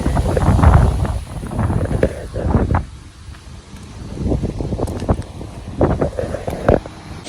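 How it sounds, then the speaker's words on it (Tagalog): Strong gusting wind outdoors on a drizzly day in Australia, buffeting the microphone in loud rumbling surges that rise and fall, with brief thumps and rustles. "Yun yung hangin, guys. Sobrang lakas ng hangin."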